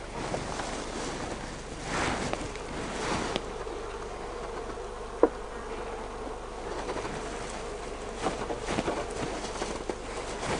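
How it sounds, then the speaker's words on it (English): Bees buzz around an open top bar hive in a faint, steady outdoor hum, with soft patters and rustles and no talking. "Get off there, you silly bees."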